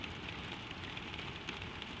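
Gentle rain falling on glass, a soft, steady hiss with faint scattered drop ticks, sounding distant and continuous with no voices.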